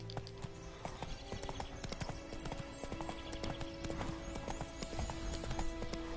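Horse hooves clip-clopping steadily in the video game The Witcher 3: Wild Hunt, a continuous close rhythmic trot over a constant game soundscape, with a faint neigh.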